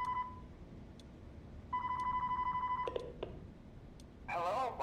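In the Five Nights at Freddy's Plus game, a phone call starts with electronic ringing tones in repeated bursts, then clicks as it connects, and a voice begins speaking at the end.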